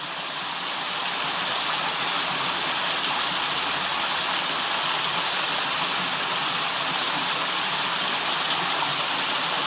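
Steady roar of a waterfall at Elsecar Reservoir, Barnsley, a dense continuous rush of falling water filling the whole scene at constant loudness.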